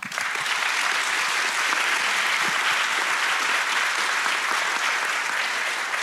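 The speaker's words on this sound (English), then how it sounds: "I would like everyone to give a round of applause to our young challenger, Maka Berulava." Sustained, dense applause from a conference audience at a presidential panel on European resilience, loud and even throughout with no talking over it.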